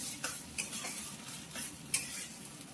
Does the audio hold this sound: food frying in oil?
yes